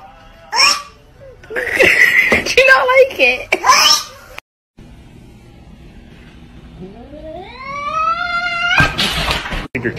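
A cat lets out a drawn-out, rising yowl after a stretch of mixed chatter and short vocal noises, fairly close and loud.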